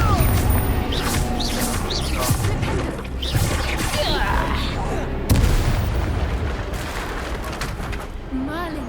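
Confringo blasting spells exploding in Hogwarts Legacy combat, a series of loud sharp booms and crashes amid battle noise, with a voice calling out the spell and other voices speaking.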